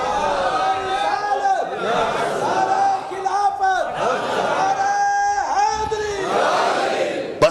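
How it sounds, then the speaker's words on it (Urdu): A crowd at a religious gathering chants slogans in unison, voices rising in repeated loud call-and-response bursts with a leader's voice between them. "نعرے سب لگوائیں، شروع سے آخر تک سارے نعرے لگوائیں"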